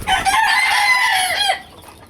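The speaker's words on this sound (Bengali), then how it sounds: "এটা হচ্ছে আরেকটা মোরগ" A young domestic rooster crows once, close and loud, in a single drawn-out call that cuts off sharply after about a second and a half, leaving quiet background.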